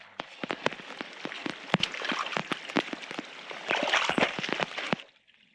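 Steady hiss of heavy tropical-storm rainfall in a video game, dense patter with sharp crackling bursts scattered through it, swelling louder near the end before cutting off abruptly.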